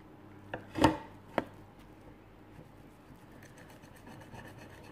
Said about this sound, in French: je vais couper